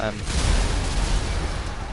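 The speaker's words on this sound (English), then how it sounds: "just as a normal standard explosion" Missile explosion from a sub car in a video game, a loud broad rumbling blast that sustains for about two seconds with dense low-end roar, likely under some talk.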